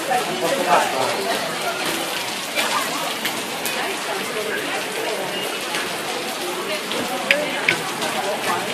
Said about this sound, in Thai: ฝนตกอ่ะ